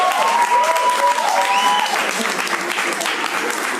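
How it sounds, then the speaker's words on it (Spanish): Conference audience breaks into applause for a speaker being introduced, a steady dense clapping that fills the room at moderate loudness from start to finish. "Fuerte el aplauso para el doctor René Rivas."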